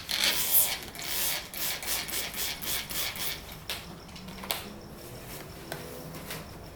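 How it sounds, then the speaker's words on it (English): Grime and dirt are rubbed off a car under the hood during a carbon fiber hood scoop install, giving a soft, steady back-and-forth wiping rasp with faint rhythmic strokes, fairly quiet and close. "Gonna get some of this dirt and grime off."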